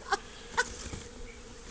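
A large swarm of bees in grass, a faint steady buzzing hum with two brief sharper insect bursts close by near the start.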